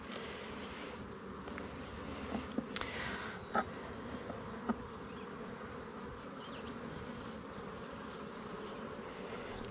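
Honeybees buzz steadily around an open hive during an inspection, a dense continuous drone with a few brief louder passes of single bees close by.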